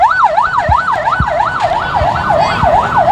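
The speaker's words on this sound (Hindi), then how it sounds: "ये आप लोग देख सकते हैं पुलिस की गाड़ी जा रही है" Police car siren passing through a Sunday bird market in Lalukhet, a loud wailing tone sweeping up and down in a steady cycle, with scattered thumps and street noise underneath.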